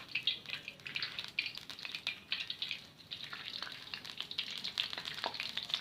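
Leftover chicken noodles frying in hot oil until crispy, a busy crackling sizzle with scattered pops and stirring scrapes, continuous and close with no talk.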